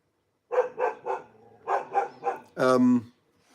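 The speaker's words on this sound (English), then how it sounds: "dogs want to bark" A dog barks six times in two quick bursts of three, close and loud, followed by a longer drawn-out bark or yelp.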